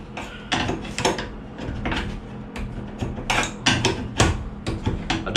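Metal clanks and ratcheting clicks from a wrench working a fitting while building a bridge for C-notches, a steady run of close, sharp knocks and scrapes with no talk.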